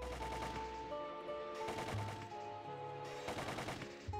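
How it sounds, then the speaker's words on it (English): A Gatling gun fires in Phantasy Star Online as a continuous rapid burst of shots, fairly faint beneath the game's soundtrack. "I'm going to be using my Gatling here."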